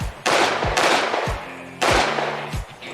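Gunshots on an IDPA shooting match stage, fired as several sharp, loud reports in uneven succession, each followed by a ringing echo off the range.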